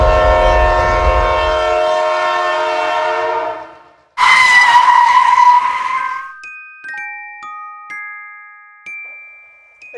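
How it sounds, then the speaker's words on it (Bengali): A cartoon train pulls into a station with a long, loud, steady horn blast that fades out, then a sudden burst of noise followed by a string of bright chiming tones. "এই যে পলাশপুর চলে এসেছে, চলুন ট্রেন থেকে নামি এখন।"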